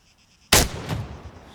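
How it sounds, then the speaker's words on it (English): A single sharp rifle shot in ARMA 3 rings out after a brief quiet, loud and close, followed by a short echoing tail. "When you're ready, put some rounds down range."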